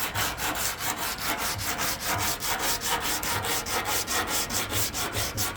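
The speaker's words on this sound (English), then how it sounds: "I'm gonna take the sandpaper and hit all the edges" Sandpaper rubbed back and forth over painted edges on a Honda Civic EF, a steady rhythmic rasping of about four strokes per second, close and fairly loud with no talking.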